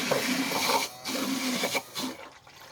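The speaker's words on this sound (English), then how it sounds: "In here we have electric bilge pump. There she goes." An electric bilge pump on a boat runs close by with a whirring, gurgling churn of moving water, uneven and sputtering in short surges, with no talking.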